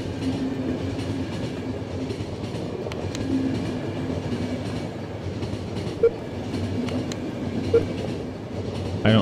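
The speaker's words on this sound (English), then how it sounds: "Fantastic train!" A train rolls steadily in The Final Station, with a continuous rumble and faint clickety-clack of wheels, plus a few sharp metallic clanks near the end.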